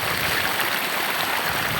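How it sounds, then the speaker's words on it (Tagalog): Continuous rushing of a river current, a steady close watery hiss without pauses or voices. "Dito parang tatangayin ako sa lakas ng alon."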